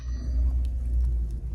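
A car with a speed problem idles as a little throttle is given, a close, deep low rumble that swells briefly and settles, with no talking.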